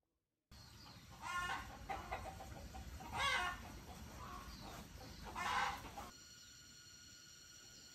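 Chickens clucking on a family farm where pigs and poultry are raised, with three louder bursts of clucking and squawking over a steady background hum, fairly close, no talking.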